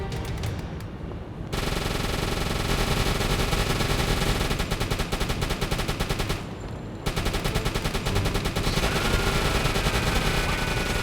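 Anti-aircraft guns on a U-boat blaze at attacking planes in a submarine game, loud sustained machine-gun bursts with brief pauses between long strings of rapid fire.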